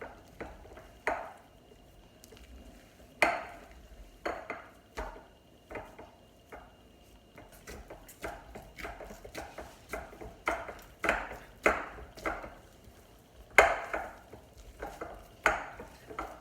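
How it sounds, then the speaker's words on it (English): Pav bread dough being punched and kneaded by hand, giving a run of soft slaps and thumps in an irregular rhythm, close and fairly quiet, with occasional light clinks from utensils and no talking. "Punch and knead it properly once again"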